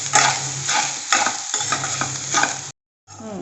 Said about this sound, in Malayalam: നല്ലപോലെ ഫ്രൈ ആയിട്ടുണ്ട് തേങ്ങയും ആ പെരിഞ്ചീരകവും ഉള്ളിയൊക്കെ